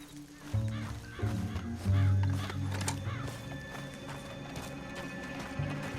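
Hooves clip-clop steadily over a busy, layered background of low rumbling and other game sounds, with occasional horse noises mixed in.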